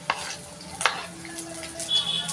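Chopped onion drops into hot oil in a pan for a rakti-style dish, giving a close sizzle broken by a few sharp clatters and stirring scrapes over a short stretch.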